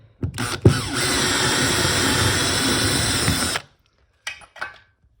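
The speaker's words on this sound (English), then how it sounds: "After you've marked out your holes, you're going to need a 18mm drill bit." A power drill with an 18mm bit bores into plasterboard steadily for about three seconds at close range, whining loudly, then stops, followed by a couple of faint clicks.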